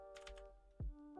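Several quick keystrokes on a computer keyboard during an old-school community gaming session, a short run of clicks followed by a single heavier thump, close and fairly quiet over steady background game tones.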